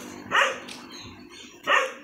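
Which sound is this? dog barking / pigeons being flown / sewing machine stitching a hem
dog barking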